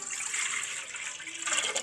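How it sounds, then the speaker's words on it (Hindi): Cold water poured from a cup into a metal cooking pot while making Kashmiri pink tea, a short soft splashing trickle close by, alone. "तो देगची में हम डाल लेते हैं 3 कप पानी।"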